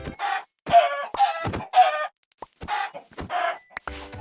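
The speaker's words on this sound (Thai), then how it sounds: "ไก่ตั้ง50ตัวเลยนะพิธีกร นี่เป็นเสียงร้องที่ทรมานที่สุด" Chickens in Minecraft cluck in a rapid series of short, loud, close squawks with brief pauses between them, no speech over them.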